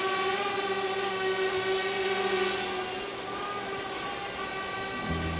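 A drone sound effect in the video game Farming Simulator 22 gives a steady, droning mechanical whine with a constant pitch that shifts slightly near the end. No one talks over it.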